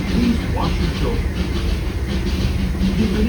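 Disneyland Railroad train rolling along its tracks, a steady, close rumble of the carriages that continues throughout, with a faint voice in the background.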